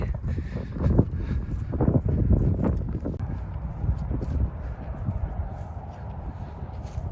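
Steady wind gusts on a cold day rumble and buffet across the microphone outdoors, a continuous low roar with faint scattered knocks.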